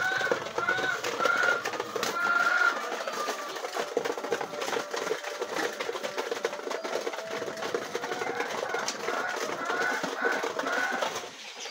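Pigeons on a rooftop coo softly in overlapping, repeated low calls over a steady bed of background noise, with no voices heard.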